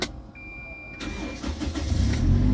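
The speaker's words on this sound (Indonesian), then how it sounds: "Oke, kita coba menyalakan mobil." A 2010 Toyota Kijang Innova 2.0 G automatic cranks briefly and then catches, its engine settling into a loud, close idle rumble with no voices over it.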